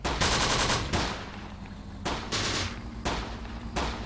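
Sustained bursts of gunfire from a Close Combat desert battle with Wehrmacht Panzer Grenadiers, loud and close, coming in rapid volleys separated by brief gaps, with no voices.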